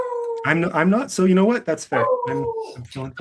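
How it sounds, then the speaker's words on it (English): A pet dog howls and whimpers in long, wavering tones close by, mixing with and overlapping a person talking indoors. "I'm sorry about my dog. She wants to be a part of this"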